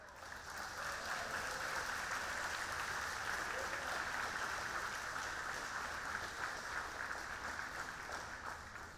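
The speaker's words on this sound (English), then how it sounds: "Let's give him another round of applause" Sustained applause from a graduation program audience, a smooth, continuous wash of many hands clapping at moderate distance, with no distinct voices over it.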